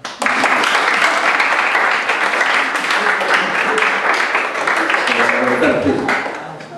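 Audience applause after a speaker is invited up at a Jewish thought class, loud dense clapping sustained for several seconds, with voices mixed in, tapering at the end.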